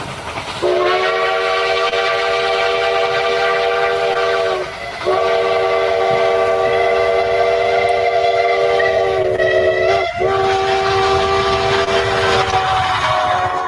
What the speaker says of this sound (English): A British and an American steam engine.